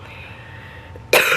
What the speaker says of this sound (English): We're all apparently coughing.